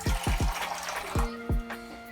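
Water pours and splashes in short bursts into a container of dried tamarind (ukwaju) pods set to soak, with several distinct gushes followed by a steadier fill, close and fairly loud with no talking.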